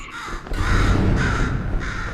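A crow caws in the video game Portal 2, with three or four harsh, evenly spaced calls over a low background hum, close and clear with no speech.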